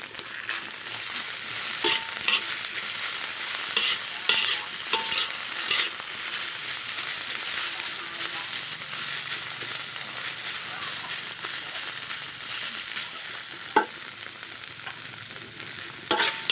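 Preserved radish stir-fried in a pan with crisped shallots, a steady bright sizzle running throughout with scattered scraping strokes and clicks of a spatula, close and continuous.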